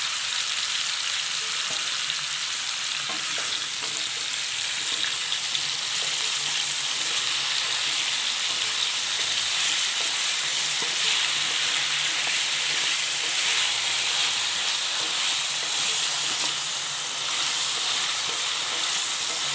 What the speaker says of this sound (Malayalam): ചേന ഒന്ന് വറുത്തെടുക്കണം.